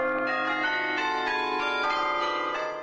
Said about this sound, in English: Vocal cords made of giant bronze bells.